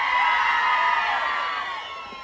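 A concert crowd shouts and cheers at a live DJ event in Kanasín, a dense wash of whoops and yelling that holds steady, then slowly fades.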